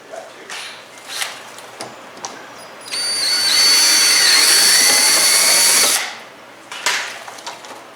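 A power drill whirs steadily for about three seconds while installing mud fenders on a Honda Talon X, with short clicks and handling noises before and after.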